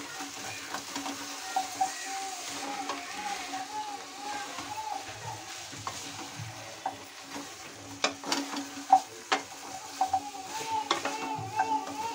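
Pieces of drumstick (moringa) are stirred in a frying pan, with a soft sizzle under repeated scraping strokes and scattered sharper clinks of the utensil against the pan.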